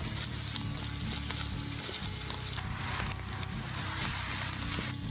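Steak sizzling directly on hot coals, a loud, continuous close-up hiss and crackle of searing meat and fire with no pauses or voices.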